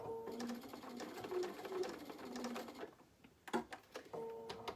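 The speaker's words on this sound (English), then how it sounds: "Now I'm going to back stitch right off the edge." A sewing machine back stitches right off the fabric edge in a quick run of close mechanical whirring, pauses briefly, then gives a sharp clunk and a short burst of stitching.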